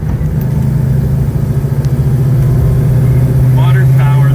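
A 1970 Dodge Charger R/T powered by a Hellcat 6.2-litre engine drones steadily from inside the car during a ride, a loud continuous low engine note that holds and slightly rises, with voices in the cabin.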